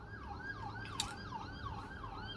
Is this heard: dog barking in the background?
no